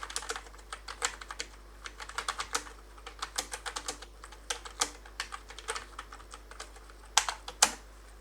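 Rapid typing on a computer keyboard while filling in an online IGNOU migration certificate application form: dense, irregular clicking in quick bursts with short pauses, close and fairly crisp, with no voices.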